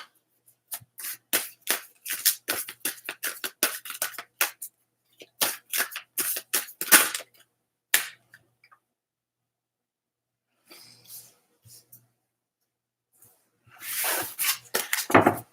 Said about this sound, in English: I need to shuffle a little more.